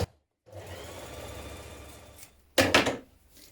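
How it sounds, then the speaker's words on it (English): Domestic sewing machine running a line of ease stitching along the top of knit dress sleeve pieces: a steady mechanical whir lasting about two seconds after a brief start, then a short louder burst of motor noise, close and with no voices. "sew a line of ease stitching around the top of each"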